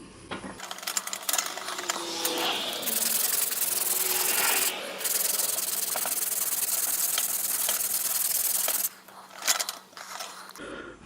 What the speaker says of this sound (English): So I'm just going to proceed and do some more sanding here.